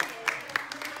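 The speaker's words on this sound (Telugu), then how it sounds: "వీళ్ళు క్లాప్స్ కొట్టున్నారు బాబు" A family claps together at a party after a bingo game ends. The applause is brief and ragged, with a few scattered hand claps, near and moderately loud, and voices mix in.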